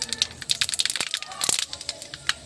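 Whole cinnamon and mace hit hot oil in a pan, giving quick, light crackles and pops that stay close and fairly faint.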